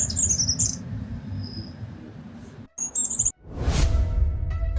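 A goldcrest, a tiny insect-eating songbird, gives high thin chirps in brief bursts over steady outdoor rumble, with a passing whoosh near the end.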